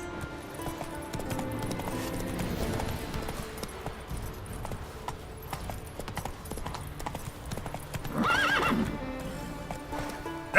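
Roach, a horse in Witcher 3, gallops with rapid, steady hoofbeats, then lets out a loud, drawn-out whinny near the end over a background game score.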